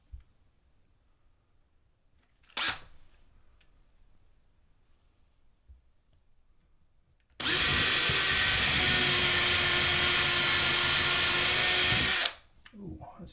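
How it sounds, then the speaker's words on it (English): A power drill drills a 5/32-inch hole into a wall, whirring steadily for about five seconds, loud and close, after a brief earlier burst and faint handling noises. "I'm going to drill a 5/32 hole"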